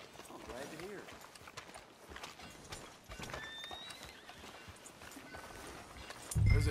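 Horse hooves clip-clop at a steady walking pace in the Western video game Red Dead Redemption 2, sitting fairly low under ambient game sound before a louder low thump at the end.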